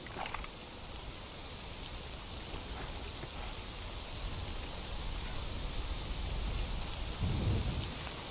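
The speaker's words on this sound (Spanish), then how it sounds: "Justo llueve como la gran puta." Heavy rain and rolling thunder in the video game S.T.A.L.K.E.R. Anomaly, a dense steady downpour with a low thunder rumble building toward the end.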